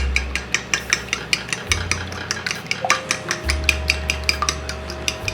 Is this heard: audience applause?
no